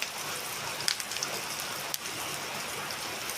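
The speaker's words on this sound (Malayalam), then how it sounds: "പുറത്ത് നല്ല മഴ പെയ്യുവാണ്" Heavy rain falls steadily outside, a dense, even hiss of drops with a few sharper taps standing out.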